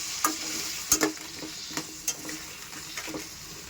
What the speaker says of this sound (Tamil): இப்போ இது நல்லா வதங்கி வரத்துக்கு உப்பு போட்டுக்கலாங்க.